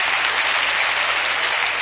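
Audience applause at a Congolese comedy stage show, a dense, steady wash of many hands clapping close and loud, sustained throughout without pause.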